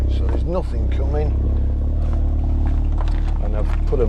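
Exhaust of a 2017 Audi TTS 2.0 TFSI Black Edition with S tronic and quattro while driving, a steady low engine drone with rising and falling rev tones, under wind noise and occasional talk.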